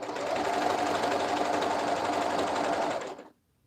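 Close, loud sewing machine stitching a romper seam, a steady rapid whirr lasting about three seconds before stopping abruptly into silence.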